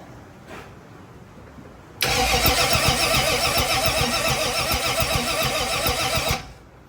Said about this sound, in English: It does crank.